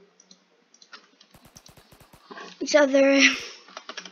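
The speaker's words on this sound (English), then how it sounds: "let me type this out" Quick keyboard typing on a computer during a Roblox session, a short run of light, evenly spaced clicks followed by a brief spoken voice.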